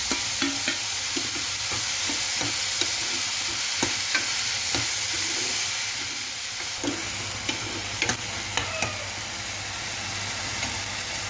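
Bitter melon and green chillies fry in a hot pan with tomatoes, giving a steady close sizzle broken by repeated sharp scrapes and clicks of a spatula stirring throughout.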